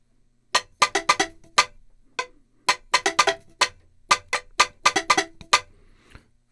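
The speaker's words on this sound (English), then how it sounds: "we're going to check out some of the tonal boom whackers here" Tonal boomwhacker patch from the Kinder Klang sampled toy instrument, a series of short, hollow pitched plastic-tube hits played in an uneven rhythm, close and clear with quick decays and brief gaps between them.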